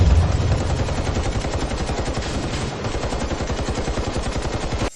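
Rapid sustained automatic gunfire as bullets fail to penetrate, a dense close run of sharp repeated shots lasting about five seconds at steady loudness.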